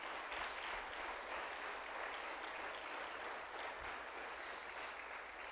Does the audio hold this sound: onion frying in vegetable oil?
no